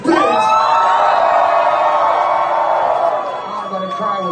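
A live crowd at a hip-hop show whoops, yells and cheers loudly for a DJ, a sustained roar of voices that holds steady and then tapers off toward the end.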